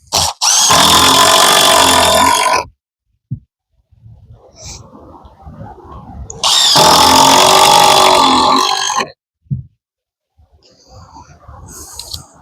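A power drill drives screws into the framing of an 8x8 wall with a window for a tiny house or shed. It makes two loud bursts of about two seconds each, separated by quiet pauses with faint handling and knocking.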